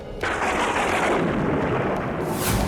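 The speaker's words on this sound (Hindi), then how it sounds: "आकाश में अचानक से ये मेघ और इतनी जोर से बिजली क्यों कड़क रही है?" A loud, sustained thunder crack rumbles alone for a few seconds as sudden storm clouds gather in an animated Hindi Ramayana battle story about Lord Ram.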